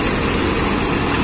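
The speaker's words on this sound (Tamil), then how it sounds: "இன்ஜின் ஓடுறது பாருங்க, ஒரு துளி கூட சவுண்டே இல்லை." A John Deere 5405 CRDI 63 HP tractor engine runs steadily with a smooth, even drone and no change in pitch, heard alone and up close.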